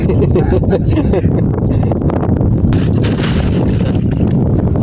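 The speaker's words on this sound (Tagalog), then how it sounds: "medyo malakas-lakas ng hangin baka dito pa tayo abutin na eh" Strong wind roars continuously across the microphone on an island, a loud buffeting rumble with gusts throughout.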